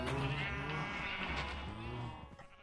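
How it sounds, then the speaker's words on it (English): Sheep in Minecraft bleat loudly and often, their cries stacking over one another along with steady background game sounds, fading toward the end. "Because these sheep are so loud."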